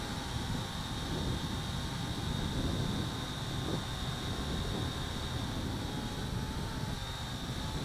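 A Syma X8C quadcopter drone hovers outdoors in wind, giving a steady broadband whir of rotors mixed with gusty wind rumble, constant and moderately distant throughout with no talking.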